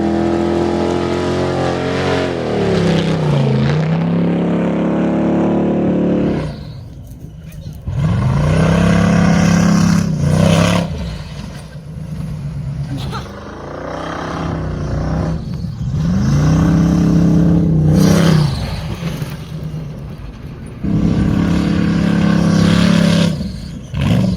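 A loud 5.7-litre LS1 V8 engine from a rock-bouncing race buggy revving repeatedly, rising and falling in pitch through several bursts, with a deep rumbling idle in between.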